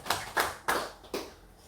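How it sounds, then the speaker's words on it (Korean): Four slow, separate hand claps with gaps between them, fairly soft, at a Korean church service, with no voices alongside. "하나님께 영광의 박수를 올리겠습니다"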